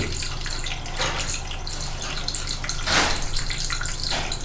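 Water runs steadily through a siphon hose with a tap into a bucket, a close, continuous splashing gurgle with brief surges.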